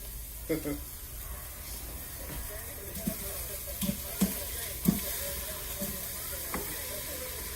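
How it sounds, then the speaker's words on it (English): Steady hissing sizzle of red Thai curry chicken frying in a pan, with occasional small pops and crackles over the constant hiss. "It's all sizzling now."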